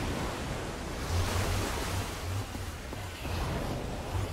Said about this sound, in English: I don't know how much water this thing is gonna kick out